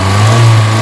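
A Kia Pride car engine with white smoke, vibration and low power, running after nearly eight minutes without being shut off, gives a loud, steady, close hum with no voices.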